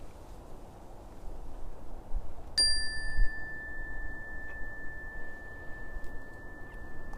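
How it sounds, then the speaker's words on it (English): A meditation chime rings once, a clear bright strike whose pure tone lingers and slowly fades over several seconds against quiet background hiss. "You can follow the chime until it's quiet."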